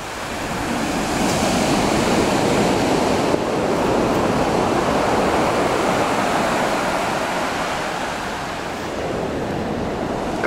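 Sea waves wash steadily onto the shore at Alanya, Turkey, a loud, continuous broadband surf roar with a slight gust-like rise and fall throughout, no voices.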